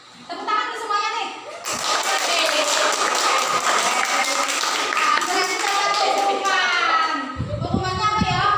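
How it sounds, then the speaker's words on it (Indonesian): A group of children in a classroom clapping their hands together, a dense burst of applause lasting several seconds, with kids' voices and chatter before and after. "Tepuk tangan tuh semuanya nih."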